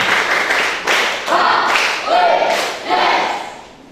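Hizbul Wathan scouts clap in rhythmic unison, bursts of group claps in a repeating pattern, loud and close, with voices chanting along between the claps.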